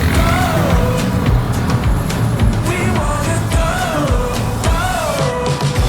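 A car cruises at speed along the highway from Davao to General Santos City, giving a steady, loud road and engine drone with tire hum that stays constant throughout, heard from inside the vehicle.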